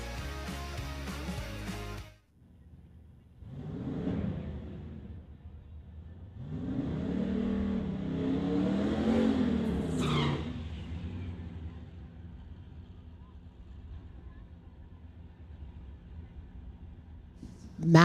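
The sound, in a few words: 1979 Chevrolet Camaro drag racing pass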